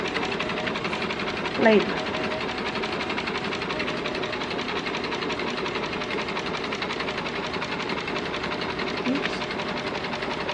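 A sewing machine runs steadily, stitching a long seam on a skirt with white thread, a continuous mechanical whir lasting throughout while a voice speaks briefly over it.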